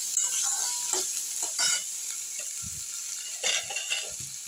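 Onion goes into a hot pan with ginger-garlic paste, hissing and sizzling steadily while a spoon scrapes and stirs in short bursts close by, no voices.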